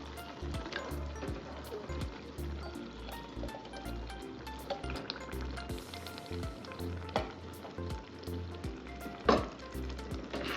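Fish pieces go into masala frying in a pan, making a close, continuous sizzle with occasional stirring and a few sharper clatters and splashes.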